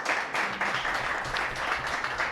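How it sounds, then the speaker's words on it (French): An audience at a Rotary club induction ceremony in Parakou applauds a new member, a continuous broad wash of many clapping hands that stays fairly even and moderately loud throughout. "Applaudissez pour lui."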